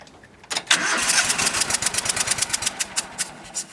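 A dually truck engine with a dead cylinder and a suspected blown head gasket cranks and catches after a short pause, then runs loud and close with an uneven, pulsing idle.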